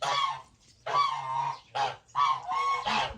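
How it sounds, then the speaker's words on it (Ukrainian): Several geese being fed honk repeatedly at close range in loud, overlapping calls with short gaps between them. "гусей кормити"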